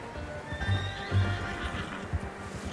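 A horse in Red Dead Redemption 2 gives a short whinny and snorts while hooves thud softly in an uneven rhythm, fairly close and moderately quiet.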